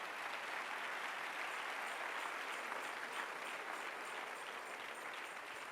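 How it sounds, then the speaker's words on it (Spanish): Church congregation applauding the Lord during a sermon: a continuous, even hiss of many hands clapping, fairly distant and soft, with no voices over it. "denle un aplauso al Señor"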